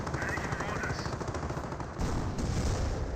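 Gunfire from a Panzer IV tank and surrounding units in the World War II strategy game Company of Heroes, a dense, steady battle din with a louder burst near the end and faint commentary underneath.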